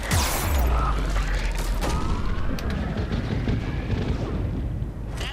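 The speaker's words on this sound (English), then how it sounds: "Oh, there was a missile launcher all along." Missile launcher fire in the video game Mass Effect 3, a loud heavy launch blast followed by rumbling explosions and whooshing debris under continuous battle noise.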